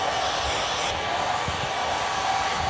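Hair dryer blowing steadily during cat grooming, a loud continuous airy whoosh with a slight shift in tone as it is moved, and faint handling bumps beneath it.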